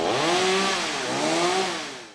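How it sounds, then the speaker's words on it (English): Chainsaws cut fallen trees in the Santa Cruz Mountains after a storm, with a loud, close engine whine that rises and falls through two revving surges before fading. "The intermittent sound of chainsaws could be heard in the Santa Cruz Mountains."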